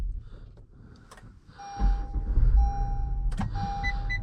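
A 2022 Honda Pilot Special Edition engine starting up, with a few quiet clicks and chimes, then a sudden rising whir as the engine catches and settles into a steady idle with a chime tone over it.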